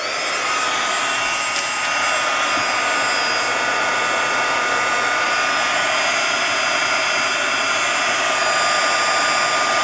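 An embossing heat tool blows steadily for the whole stretch, a loud, even, close whoosh like a hair dryer with no change in pitch, and no talk.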